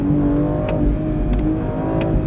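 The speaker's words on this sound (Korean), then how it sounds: "이렇게 규정 속도 내에서 급가속을 해서" A BMW X3 M SUV accelerates hard from inside the cabin, its engine a loud, steady growling roar across the short stretch with faint ticks on top.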